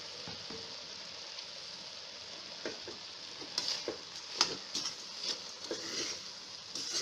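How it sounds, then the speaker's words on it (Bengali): Fried vermicelli gets stirred into melted sugar in a pan while making lachha semai laddu, with a soft sizzle under scattered scraping and clinking of a spoon against the pan, quiet and close. "সেমাইটা দিয়ে খুব সুন্দর করে নাড়তে হবে"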